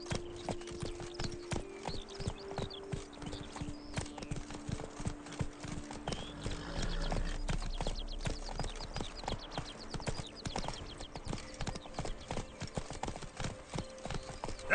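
Roach, the horse in The Witcher 3, trots along with a steady, rapid clip-clop of hooves, close and continuous throughout, over a low game ambience and faint music.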